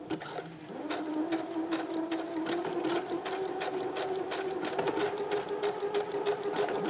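A domestic sewing machine runs a blind hem stitch along a fabric edge, a steady close mechanical whir with a rapid rhythmic needle clatter that continues without pause.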